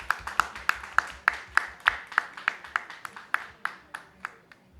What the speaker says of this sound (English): Can we have a huge round of applause for Miss Nisha Belair?